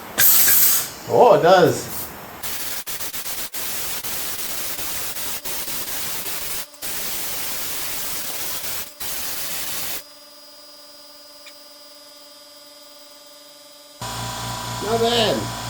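Restored 40-year-old media blaster running on a small compressor, giving a loud, close hiss of spray in long bursts that stop abruptly, followed by quieter machine hum, with brief talk at the start and end.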